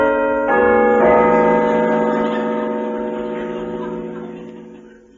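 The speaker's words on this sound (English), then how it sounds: "Pull the bell handle." An old mansion bell, rung by pulling its handle, clangs with a rich harmonic tone that rings out and slowly fades over several seconds, loud and clear with no talk.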